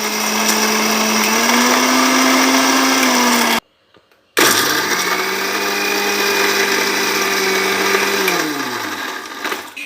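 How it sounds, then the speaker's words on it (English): Mixer grinder whirring as it grinds chocolate biscuits in a mixer jar: a loud, steady motor whine that runs, cuts out briefly, restarts and then winds down near the end, with no voices. "we'll put it in a mixer jar and here let's grind it."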